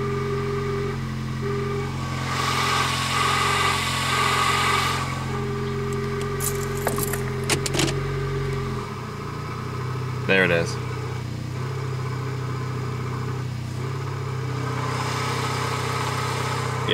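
Engine noise from a 1999 Toyota Corolla 1.8 with a faulty power steering pump, a steady idle hum with a whining tone that cuts off midway, with jangling keys, clicks and someone talking.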